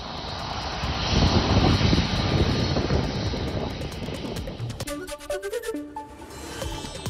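Passenger airliner carrying the cricket team arriving at Mumbai airport under a fire-brigade water salute, a loud steady roar of jet engines filling the first seconds before easing, with brief tonal clatter and hiss toward the end.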